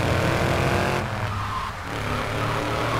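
A car driven in Grand Theft Auto III, loud engine roar with tires squealing as it accelerates and turns, the drone dipping briefly before surging again, no talk over it.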